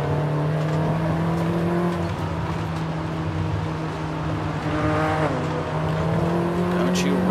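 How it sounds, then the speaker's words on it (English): A 1971 Lotus Elan Sprint, rear-drive with a four-speed held in third gear, runs with a steady close engine drone that swells into a louder rev near the end, with a person talking over it. "Don't you roar your engine at me"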